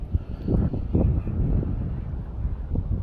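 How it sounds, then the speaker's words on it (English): Strong gusting wind buffeting the microphone beside a river while bank fishing, a loud low rumble that rises and falls in uneven bursts with no talk. "Man, it's windy as hell though."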